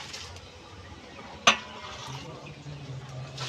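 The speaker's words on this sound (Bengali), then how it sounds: "এই সেদ্ধ মটরটা এখন আমি দিয়ে দেব।" Boiled peas for mutton ghugni go into a pan with one sharp metallic clatter over a low, steady sizzle, followed by quieter stirring sounds.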